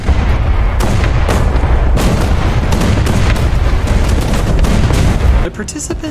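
Battleship main guns from the SS Wyoming, Scharnhorst and HMS Dreadnought pound a Maus tank in War Thunder, loud dense continuous booming barrage with repeated heavy blasts, cutting off abruptly near the end.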